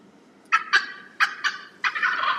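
A wild turkey gobbles in close, loud bursts, a quick series of rattling calls in uneven rhythm ending in a longer trailing gobble, alone with no voices.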